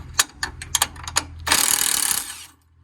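A ratchet wrench works a 15 bolt on a John Deere E140 lawn tractor, giving a series of sharp metallic clicks followed by a longer, continuous rattling whir, close and alone.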